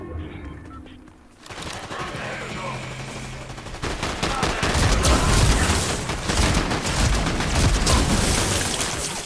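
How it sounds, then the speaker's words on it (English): Sustained Fortnite gunfire from bots being shot down, dense rapid bursts building after a quieter opening and staying loud and continuous to the end. "I'm shooting these bots down."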